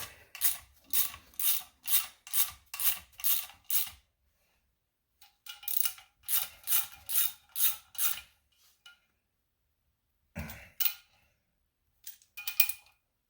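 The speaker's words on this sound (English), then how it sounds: "that's torque down to the calibration specs" Torque wrench clicking and ratcheting as brake bolts are tightened on a 1948 Ford F6 COE truck's front brake conversion; two close bursts of rapid, evenly spaced clicks, then a few scattered clicks, with no talk.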